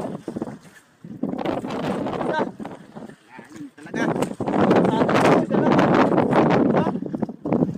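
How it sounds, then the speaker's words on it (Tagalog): Strong wind buffeting the microphone at a fishing spot, loud gusty roaring in surges under people talking. "medyo maingay. Malakas kasi yung hangin dito."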